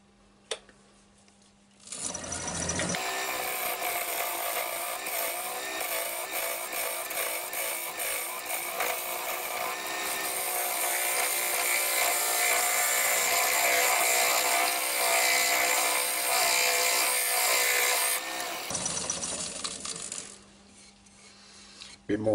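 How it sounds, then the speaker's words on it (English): A wooden bowl spins on a lathe while being trued up with a square carbide cutter, giving a continuous scraping, rasping cut of about sixteen seconds, with a quiet motor hum before and after. "I'm just going to carry on now, just truing this up now using a square carbide cutter."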